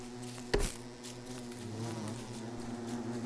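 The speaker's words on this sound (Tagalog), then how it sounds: "Ba't may mga bubuyog?" Bees buzz in the video game Don't Starve, a steady droning hum that runs close and fairly loud through the whole stretch, broken by a short sharp burst early on.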